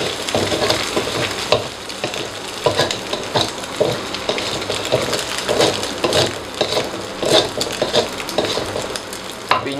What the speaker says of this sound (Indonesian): Oseng-oseng terus sampai agak kecoklatan ya.